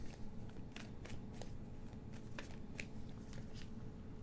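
Tarot cards shuffled by hand in repeated quick riffles, crisp papery bursts in an uneven rhythm over a low background hum, close and alone without talking.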